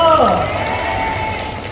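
An audience at a Buddhist concert cheers and applauds for a singer's encore, a steady wash of clapping and crowd noise under an announcer's voice at the start.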